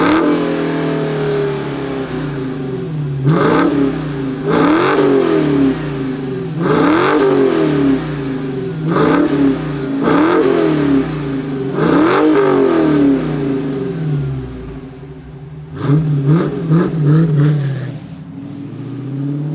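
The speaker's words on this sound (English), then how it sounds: "let's fire up this muscle car and hear its rumble" A 2021 Dodge Challenger Scat Pack manual with a V8 starts up and rumbles loudly at close range, settling into a deep idle broken by repeated throttle blips, about eight rhythmic revs followed by a final cluster.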